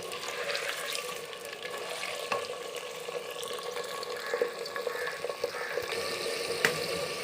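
Chicken fries in hot oil for a chicken masala curry, giving a steady soft sizzle with occasional crackles and stirring sounds, fairly quiet and close, without talk.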